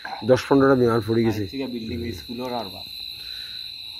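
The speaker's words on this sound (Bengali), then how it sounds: "ঝিঝি পোকা চারিদিকে ডাকছে" Crickets chirp at night in rural Bangladesh, a steady high trill running throughout while someone talks over it for the first few seconds.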